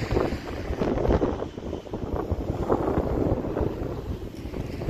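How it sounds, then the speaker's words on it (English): Gusting wind buffets the microphone while walking outdoors along the Blackpool seafront between Gynn Square and Bispham, a loud, uneven low rumble with rising and falling bursts throughout, without speech. "There's more wind than I thought."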